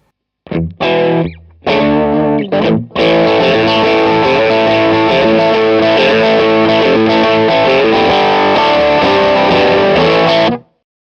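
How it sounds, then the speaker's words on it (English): Overdriven electric guitar played through a Strymon Sunset overdrive pedal plays alone, a few short opening hits and pauses, then a steady stretch of loud, warm distorted chords and notes that ring out and stop abruptly. "This is all sort of more just basic overdrive sounds like the 808s and the SD1."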